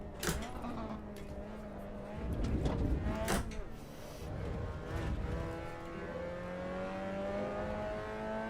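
A race car in Assetto Corsa EVO revs up through the gears, engine pitch rising then dropping with each upshift, punctuated by sharp clunks, heard at moderate level.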